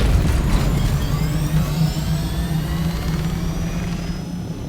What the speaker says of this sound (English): Give me my chopper.